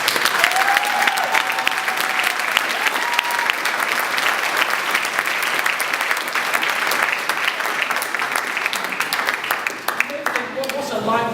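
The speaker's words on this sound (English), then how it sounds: "I think we should give them a special round of applause" At an annual presentation evening held at Woolwich Barracks, an audience in a hall gives sustained loud applause, dense steady clapping with voices calling out over it near the end.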